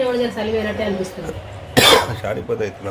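A single sharp cough breaks into a person's talking, which carries on right after it.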